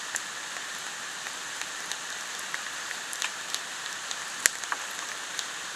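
Light rain falls in a forest during a film shoot, a soft, even patter with scattered individual drops ticking on nearby surfaces, faint and without any voices.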